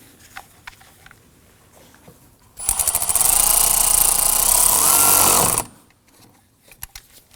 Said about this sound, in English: It's going to tighten down our hose clamp here.